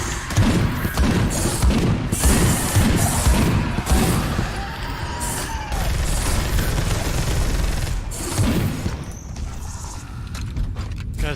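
Rapid gunfire from weapons in Space Hulk Deathwing, a dense run of close, loud shots with booming impacts and clanking mechanisms that continues almost without pause.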